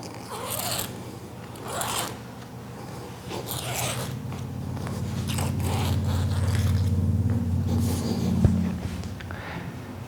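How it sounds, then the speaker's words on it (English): A straight razor slices pool lanai screen mesh along a control joint, giving soft repeated scraping and zipping strokes close up over a low steady hum. "I can just take my straight razor and cut it down the control joint."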